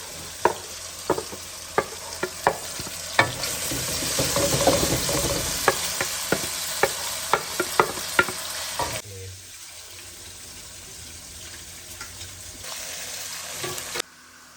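Tomatoes, ginger and garlic fry in a pot over a village cooking fire while a utensil scrapes and stirs in quick, regular strokes over a steady sizzle. The stirring stops partway, leaving a quieter simmer.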